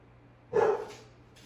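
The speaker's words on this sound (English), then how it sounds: "we got the dogs barking" Dogs give one short, moderately loud bark with a faint follow-up, heard against quiet indoor background hum during a foam roller exercise session.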